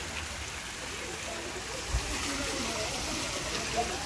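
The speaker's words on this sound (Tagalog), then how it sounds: "Waterfalls para sa mga monkey." A small waterfall at Swayambhunath monkey temple in Kathmandu makes a continuous trickle and splash of running water, with a couple of soft low thumps.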